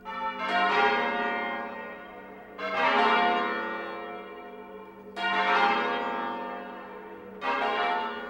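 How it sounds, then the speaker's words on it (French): Bells of the Anglican cathedral in Quebec City rung together in a firing, all struck at once in four loud resonant clashes a few seconds apart, each leaving a long ringing decay. "les cloches de la cathédrale anglicane de Québec vont résonner toutes à l'unisson"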